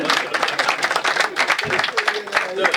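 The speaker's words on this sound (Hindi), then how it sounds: "जोरदार तालियां बजा दो।" Lively clapping from an audience at a comedy poetry show, loud and close, with a choppy pulsing texture and voices mixed in beneath.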